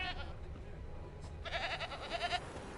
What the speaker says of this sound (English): I hear the goat over here.